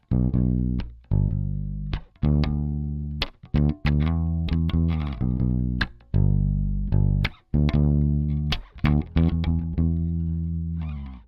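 Clean electric bass through a Tech 21 VT Bass DI played alone, deep plucked notes in short phrases with brief pauses between them, close and steady.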